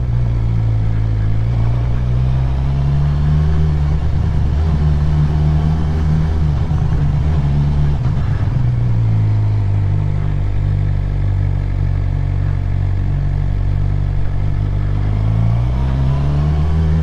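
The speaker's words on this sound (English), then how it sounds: "now roll on the throttle" A motorcycle engine under way while a new rider rolls on the throttle, a loud, steady drone close to the mic that rises and falls gently in pitch with slight revving, with wind rumble and no voices.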